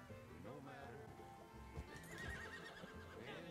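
Horse in the video game Red Dead Online neighing and whinnying, with clip-clop hooves, fairly close over game ambience.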